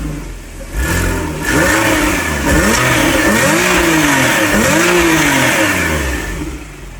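A 2011 Porsche 911 GTS from the 997 generation, with a 3.8-liter naturally aspirated engine and sports exhaust, revs loudly and close up in several rising and falling surges before settling back.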